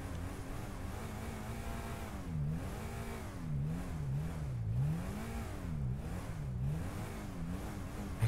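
A car engine idles, then revs up and down repeatedly in a rising and falling pattern, fairly close by, with no talking.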